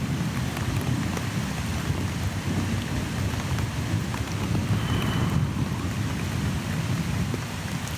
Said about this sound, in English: That is a long bit of thunder.